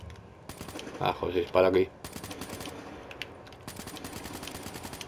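Rapid bursts of gunfire from Call of Duty: Black Ops III, loud and repeated through the clip, with someone speaking briefly over the shots.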